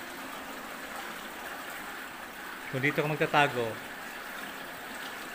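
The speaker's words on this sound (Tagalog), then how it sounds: "Ang lakas talaga ng current na tubig, oh." A strong, deep river current rushes steadily throughout as a broad, constant wash of water noise, with someone speaking briefly over it midway.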